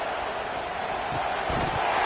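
A college football stadium crowd at Nebraska versus Akron roars on a big third down, a dense, continuous wall of cheering that swells slightly toward the end, heard without close talk.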